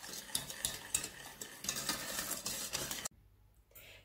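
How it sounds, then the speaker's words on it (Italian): Egg yolks, sugar and sifted flour being mixed in a bowl, with close, busy scraping and clinking of the utensil against the bowl for about three seconds before it drops to quiet. "Tuorli e zucchero, aggiungiamo la farina setacciata e mescolare"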